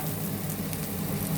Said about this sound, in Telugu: ఇది పోపు వేగిపోయిందండి